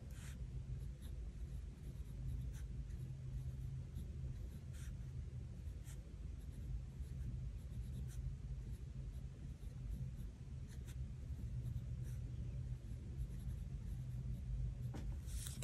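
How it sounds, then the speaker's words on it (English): Pen writing in a Hobonichi Cousin planner, soft continuous scratching strokes close up and quiet, with occasional faint taps between words and a low background hum. "I'm going to write in a couple of things for that."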